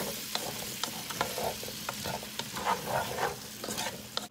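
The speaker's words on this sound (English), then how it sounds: "while the vegetables saute" Vegetables seasoned with salt and pepper sauté in a pan with a steady sizzle, broken by scattered scrapes and clicks of stirring, close and fairly quiet, with no talking.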